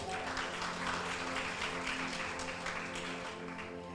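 A church congregation claps steadily for several seconds, a dense even applause that fades slightly toward the end.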